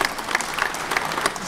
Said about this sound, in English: let's go ahead and applaud now